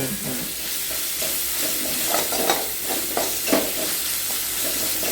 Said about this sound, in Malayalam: അതിനെ വീണ്ടും നമ്മൾ ഇങ്ങനെ വഴറ്റിക്കൊണ്ടിരിക്കുക